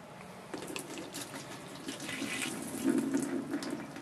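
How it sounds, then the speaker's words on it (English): Rinse water for oolong tea leaves streams through a strainer, a steady close trickle that swells into a heavier pour near the end, with no talking. "Now I'm going to take the strainer and strain it out."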